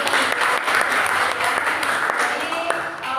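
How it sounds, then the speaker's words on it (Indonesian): A school class claps for Ari and Feby, a dense burst of close applause that holds for a few seconds while voices mix in underneath. "Jadi tepuk tangan buat Ari dan Feby."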